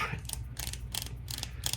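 The depth control on a Vortex dental handpiece nosecone, its gears freshly oiled, is worked back and forth. Small, dry mechanical clicks and ratcheting bursts are heard up close over a low steady hum.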